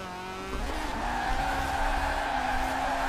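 A Mazda RX-7 FD with its factory twin-turbo engine drifting sideways in Forza Horizon 4, engine droning steadily while the tires squeal continuously throughout, loud and close with no talking.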